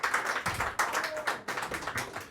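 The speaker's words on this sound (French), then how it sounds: "Applaudissez le poète encore une fois" An audience applauds a poet at a slam poetry tournament in Antibes: dense, continuous hand clapping with rhythmic surges, moderately loud and heard on its own.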